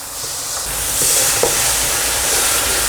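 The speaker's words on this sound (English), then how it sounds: "And now straight in with the passata." Tomato passata goes into a pan of frying curry spices, giving a steady close sizzle and hiss with faint scraping from stirring throughout, no voices.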